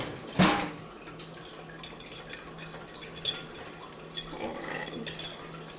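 A fork mixes ingredients in a bowl for chocolate cherry bars, giving a busy run of light metallic clinks and scrapes against the bowl. The clatter sits close and fairly quiet, opening with one sharper tap.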